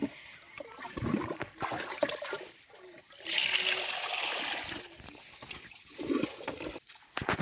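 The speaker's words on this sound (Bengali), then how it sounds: "শাকগুলো ভালো মতো পরিষ্কার করে কয়েকবার ধুয়ে নিতে হবে" Water spinach greens being washed repeatedly in a basin for a hill-style dish. Soft, close sloshing, splashing and trickling water with intermittent drips, fairly quiet. No speech.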